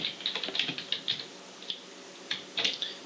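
Rapid clicking of computer keys as a message is typed, irregular bursts of close, crisp taps with brief pauses, no voices.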